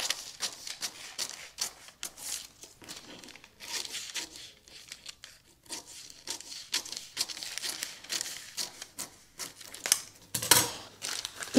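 Scissors snipping through a paper sewing pattern to cut out a waist dart for a knit dress, a run of close, crisp rustling cuts and paper crinkles with no talking.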